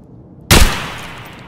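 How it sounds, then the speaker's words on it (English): A single sharp AK rifle shot firing BP rounds in Escape from Tarkov, loud and close, cracking suddenly out of near silence and then tailing off in a long echoing decay. "AK with BP rounds against pristine parka and healthy player"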